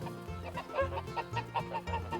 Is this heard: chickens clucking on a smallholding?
yes